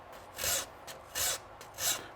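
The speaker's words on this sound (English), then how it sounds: "So I just use a chainsaw file." A chainsaw file rasps string grooves into a wooden traditional longbow in three short, evenly spaced strokes, each a bright scraping burst close to the mic with brief quiet gaps between.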